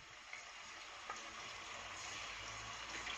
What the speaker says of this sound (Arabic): هنزل بقى بقطع السمك اللي معايا المكعبات